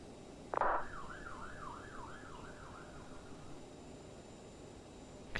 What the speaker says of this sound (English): you guys just heard the ambulance go past my house